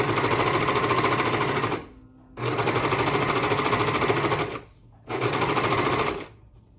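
A serger stitches and trims fabric in three loud, fast-running bursts separated by brief pauses, a dense mechanical whir heard alone and close.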